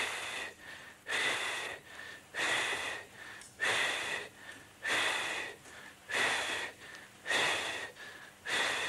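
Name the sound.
group exhaling breath in singing breathing exercise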